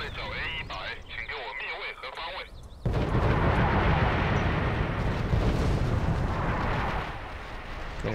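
Missile explosions in Command and Conquer Generals Zero Hour: after a couple of seconds of game voice, a loud broadband blast erupts and rolls on as a sustained rumbling roar for several seconds.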